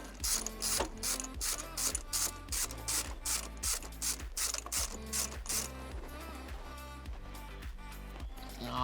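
Small hand ratchet clicking steadily as it backs an old spark plug out of a 1995 Renault Twingo engine, a dense, close run of sharp mechanical ticks with no talk.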